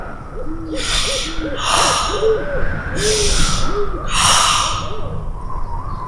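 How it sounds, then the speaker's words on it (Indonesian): Heavy snorting breaths repeat four times in a slow rhythm, loud and close, with a low hooting sound underneath. "Suara dengusan napas terdengar di balik pintu kamarnya."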